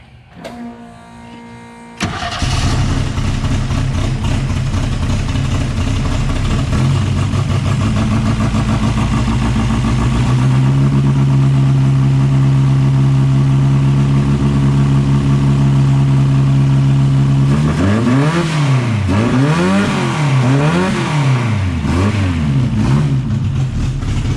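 A rebuilt race engine with a freshly replaced head runs steadily and loud, then revs up and down repeatedly near the end, engine pitch rising and falling in waves.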